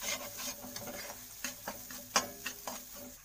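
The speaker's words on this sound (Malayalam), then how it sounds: "അതുകൂടെ ചേർത്തൊന്ന് നല്ലതായിട്ട് ഇളക്കി കൊടുക്കാം." A spoon stirs curry leaves through a sizzling egg rice masala, producing a series of scraping strokes and light pan clinks over a soft frying hiss, fairly close.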